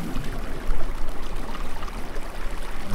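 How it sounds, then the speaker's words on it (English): Steady flowing water ambience in a blocky sandbox video game, a continuous rushing, trickling wash with no voices. "I'm kind of tired of the water sound."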